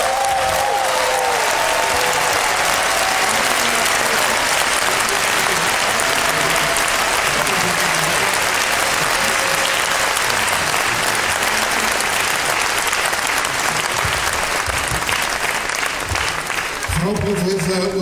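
Sustained applause from an audience at an evening song concert and young talent prize ceremony, greeting a special prize winner; steady, dense clapping throughout with some crowd noise, fading slightly at the end.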